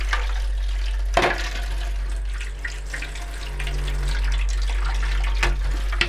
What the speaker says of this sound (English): Get some water in that tray.